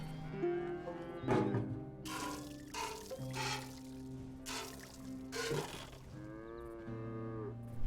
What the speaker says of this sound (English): cow likes you. Almost Yeah. got a pail full.